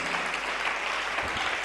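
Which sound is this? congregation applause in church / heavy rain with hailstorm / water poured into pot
congregation applause in church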